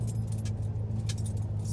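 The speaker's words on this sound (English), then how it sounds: "I'm pulling back there now in our truck." A truck drives along a property road toward a woodpile, its steady engine rumble close and continuous, with a faint light jingle of keys on top and no talking.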